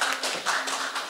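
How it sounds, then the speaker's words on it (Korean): Audience applause at an economics symposium in Seoul, welcoming a discussant being introduced; steady, moderately loud clapping from a seated crowd filling the whole moment, with no talking over it. "박수로 맞이해 주시기 바랍니다"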